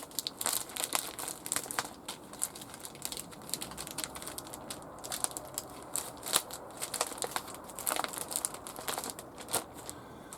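Plastic crinkles and rustles close by in irregular bursts of sharp crackles, fairly quiet, with no one talking.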